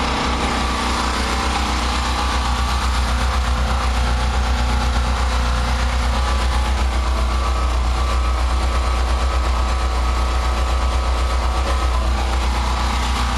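A gasoline home generator with its fuel cocks shut runs on until the fuel is gone, giving a loud, steady, close engine drone with no talking.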